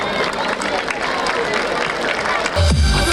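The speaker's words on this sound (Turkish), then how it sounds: "Alkış" Crowd applause and cheering at an outdoor April 23 children's day celebration fill the clip, a dense steady clatter of clapping with a low thump near the end.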